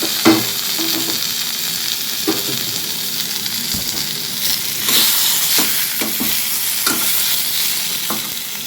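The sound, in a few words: boiled vegetables added to pan and frying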